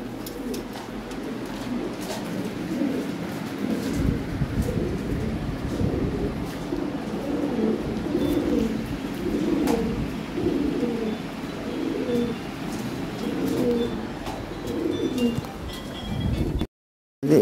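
Silver Lahore pigeons coo repeatedly in soft, low, throaty phrases over a steady background rumble. Several calls overlap at close range throughout.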